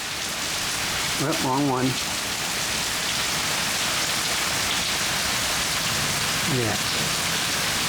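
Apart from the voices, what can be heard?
rain falling during a thunderstorm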